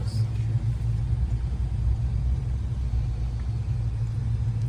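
Steady low rumble of cars and idling engines at a crowded Buc-ee's gas station, a continuous even drone of traffic nearby with no distinct passes standing out.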